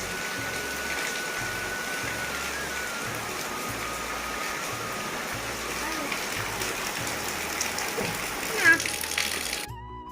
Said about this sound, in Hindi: अब बारिश बहुत तेज़ हो रही है।